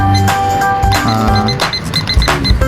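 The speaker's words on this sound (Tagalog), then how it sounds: "mag-set na tayo dito sa timer natin" A kitchen timer being set: a run of quick electronic beeps and clicks mixed with a few button thunks, loud and close.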